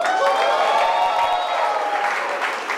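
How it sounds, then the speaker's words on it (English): Audience at a mentalist and mind-reader show bursting into applause with some cheering, a loud, dense crowd roar of clapping that holds steady and eases slightly toward the end. "you'll give me a bigger round of applause"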